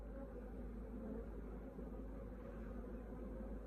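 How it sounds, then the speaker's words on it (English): A steady, dense buzzing of many honeybees close by at the entrance of their new hive box, droning continuously without pause. "that's the bees at the entrance of their new box"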